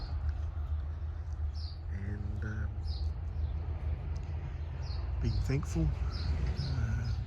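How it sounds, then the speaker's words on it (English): Faint bird chirps and short calls from two different birds in the distance in a backyard, under steady outdoor noise, with a soft voice speaking briefly. "Got 2 different birds chirping away in the background"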